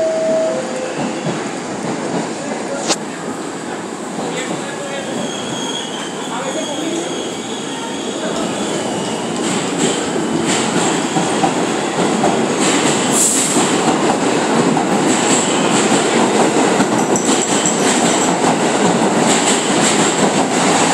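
A subway train rumbles steadily with rail clatter and rising noise, voices talking faintly over it, the roar building toward the end.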